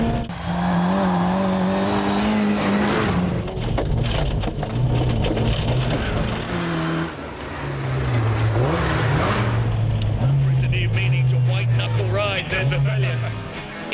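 A classic Mini car drives fast over a rocky gravel road, its engine droning steadily with rattling and crunching from the loose stones under the tires, and a person talks over the noise throughout.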